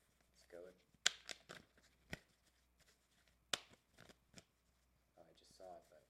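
A deck of tarot cards is shuffled by hand in a quiet room, with soft riffling, slapping and snapping bursts scattered irregularly while a person speaks softly between them.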